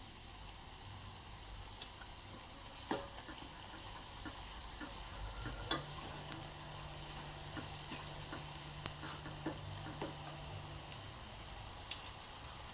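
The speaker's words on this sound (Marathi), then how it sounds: "त्यामध्ये आपण आलं, लसूण आणि ओल्या खोबऱ्याची पेस्ट बनवलेली आहे ती घालून घेऊया।" Ginger, garlic and fresh coconut paste sizzles steadily as masala roasts in oil for a dhaba-style whole masoor dish, with faint stirring ticks and scrapes over a constant frying hiss.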